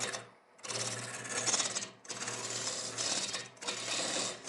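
A wood lathe spins at about 800 RPM while a hollow form is turned, a close scraping tool cut in repeated strokes with brief pauses between passes over a low steady hum.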